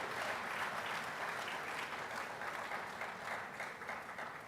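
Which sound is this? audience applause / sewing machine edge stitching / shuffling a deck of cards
audience applause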